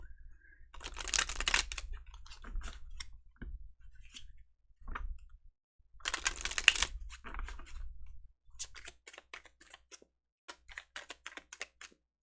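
Tarot cards being shuffled by hand, several bursts of quick crisp riffling and flicking separated by short pauses, close and clear with no talking.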